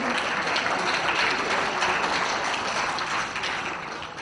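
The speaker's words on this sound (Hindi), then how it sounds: "तो प्लीज तालियां कंटिन्यू रखिए" A room full of people at a 2014 eBihar conference applauds steadily, a dense patter of clapping that holds throughout and tapers slightly at the end.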